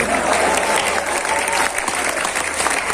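A crowd claps steadily and densely throughout, a sustained wash of applause from an audience at a speech, loud and continuous with murmurs of voices mixed in.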